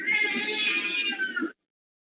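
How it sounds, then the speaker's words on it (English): A cat gives one long, drawn-out meow close by, loud and clear, ending abruptly into silence. "if you have a cat meowing next to you"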